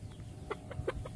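A chicken gives a few quick soft clucks, faint and close, over low background noise.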